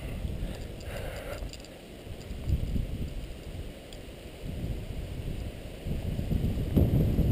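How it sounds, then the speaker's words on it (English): Gusty wind high on an overlook at Cloudland Canyon buffets the microphone in low, uneven rumbles, with faint rustling in the background and no voices. "It's too windy up here today too."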